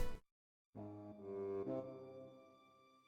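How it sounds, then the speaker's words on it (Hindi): A hippopotamus's deep, resonant rumbling growl, fairly loud and alone, rising briefly then fading away after a short pause at the start. "उनमें से एक गहरी गूंजती हुई गुर्राहट, ये दरियाई घोड़े की आवाज है।"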